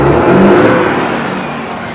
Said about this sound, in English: Should we rev it up? Give her a rev.